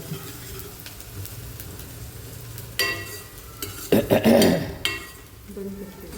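Curry leaves frying in hot oil in a kadhai, a low sizzle with scraping stirs and a louder burst of crackling spatter midway.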